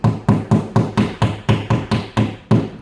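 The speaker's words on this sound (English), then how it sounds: "Hammer this bad boy." Hammer blows drive shelving into place during an installation, about eleven sharp, evenly spaced strikes, loud and close, with no talking.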